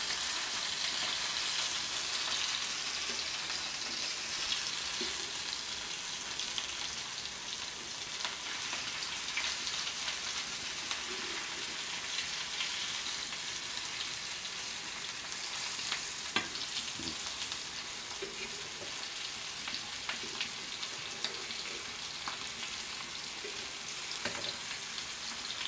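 Bangda mackerel fish frying crisp in a pan, a continuous close, even crackling sizzle with occasional louder pops, heard alone without talk.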